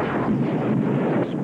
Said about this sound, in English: Explosions rarely make me flinch.